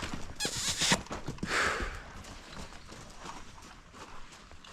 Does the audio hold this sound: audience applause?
no